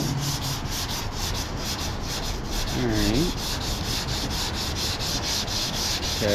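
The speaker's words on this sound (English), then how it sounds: "So I'm gonna keep sanding a little bit" Steady rhythmic rubbing of sandpaper block-sanding primer on a car body, back-and-forth strokes repeating evenly and close by, with no talking.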